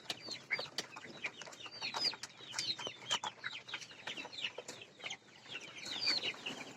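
A flock of young tiger chickens kept for eggs, soft continuous peeping and clucking from many birds close by, uneven and overlapping, fairly quiet, no talking.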